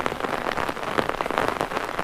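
Steady rain falls on surfaces in the hills of Uttarakhand, a dense continuous patter with scattered sharper drops, fairly close and even throughout, with no voices.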